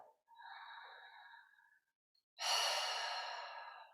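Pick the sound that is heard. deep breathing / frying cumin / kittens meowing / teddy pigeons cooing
deep breathing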